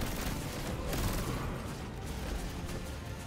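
A boss in the Destiny 2 video game sprays the player with rapid shots, a dense, unbroken barrage of gunfire and blasts at moderate volume with no pauses.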